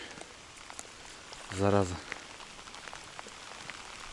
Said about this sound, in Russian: Смотрите, опять попер дождь.